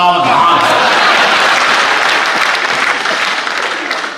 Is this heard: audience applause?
yes